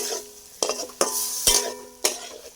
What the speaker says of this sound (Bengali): এবার এটাকে সুন্দর করে আমরা নেড়ে পেস্ট করে